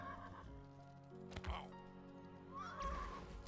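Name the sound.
horse neighing in Mortal Online 2 video game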